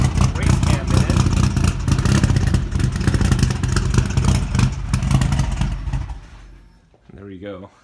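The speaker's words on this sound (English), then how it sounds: "Now this car, it sounds a little bit more aggressive due to the fact that it has a very aggressive" Car engine fitted with an aggressive race cam, loud and lumpy with a choppy, uneven idle rumble close by, fading out near the end as a voice speaks over it.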